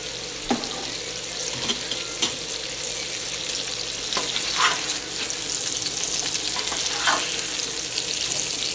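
Red beets with shallots sautéing in a pan over raised flame, a steady bright sizzle with occasional scraping stirs and sharp crackles, close and alone without talk.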